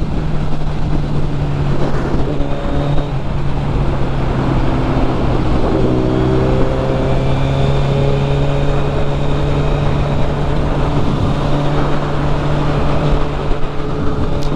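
A 2022 Suzuki Hayabusa rides through city traffic in Chicago, its engine a loud, steady close drone with a low hum and shifting whine over road and wind noise.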